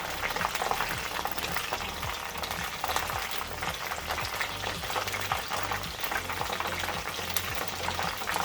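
Beer-battered cod fries in hot oil with a steady, dense sizzle and scattered pops, constant and fairly close throughout with no talking.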